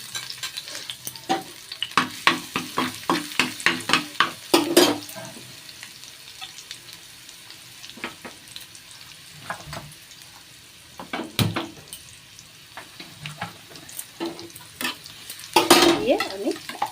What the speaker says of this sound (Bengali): আমি এবার একটু থেতো করা রসুন এর মধ্যে দিয়ে দেবো।